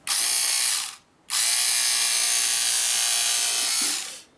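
Cordless electric scissors slice through synthetic leather about 2.5 mm thick, the motor whirring close up in two bursts: a short one, a brief pause, then a longer steady run with no talking.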